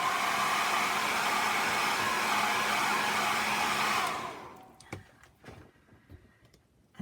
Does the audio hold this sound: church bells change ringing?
no